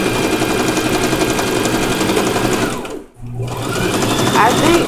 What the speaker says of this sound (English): But now I'm just sewing a line, sewing up until I get to the point of a new needle